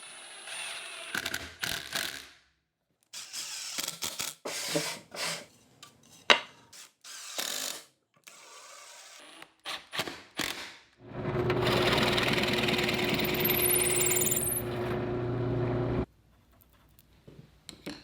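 A power drill bores a pilot hole and drives exterior screws into a wooden board for an outdoor side table, with intermittent mechanical bursts and rattling, then a sustained loud whir of several seconds before it stops.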